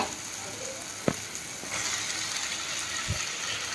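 Lote (Bombay duck) fish going into hot, spiced oil for a Bengali jhuri, with a steady sizzle throughout, a sharp tap near the start, a low thump near the end and the frying swelling slightly midway; no talk.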